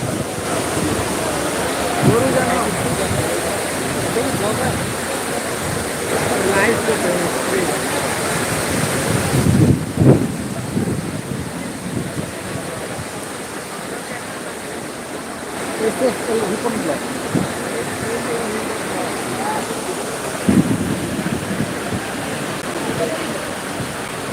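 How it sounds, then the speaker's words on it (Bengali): Strong storm wind roars and buffets the microphone in gusts at the Gabtoli cattle market, with a dense rushing wash like driving rain, and voices faintly audible underneath. "গাবতলি গরু হাটে ঝড় হচ্ছে প্রচুর পরিমাণে ঝড় হচ্ছে"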